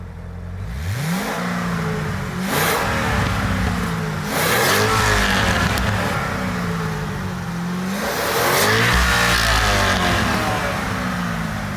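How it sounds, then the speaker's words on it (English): A 2007 Chevrolet Corvette Z06 C6 revs its exhaust loudly and close by, in repeated rising and falling bursts of engine note across the clip, with no talking. "Let's see how the exhaust sounds."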